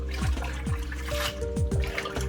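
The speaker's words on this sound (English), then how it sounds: "Now the next part is to wash these greens, and I wash them maybe 3 times." Collard greens are swished and agitated in a basin of water, giving continuous sloshing and splashing with small drips, close and moderately loud.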